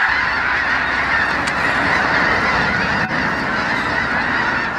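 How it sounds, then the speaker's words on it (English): Thousands of Ross's geese in North Dakota produce a constant, loud, close chorus of overlapping honks, an unbroken roar of calls with no voices over it. "Look at them Ross geese."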